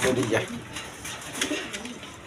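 A pair of racer pigeons cooing, soft low murmuring coos close by, with a voice talking over them.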